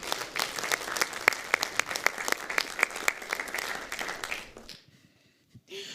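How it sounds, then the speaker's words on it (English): Conference audience at a Berlin tech event gives a round of applause, dense and lively clapping with a few sharp claps standing out, stopping abruptly near the end and leaving near silence. "Round of applause for them."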